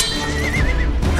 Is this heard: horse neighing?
yes